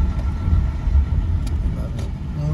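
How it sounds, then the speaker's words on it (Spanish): Low, rumbling street traffic in Tijuana, with cars idling and rolling slowly in heavy congestion near a traffic light, heard close and steady from inside a car. "Mucho tráfico."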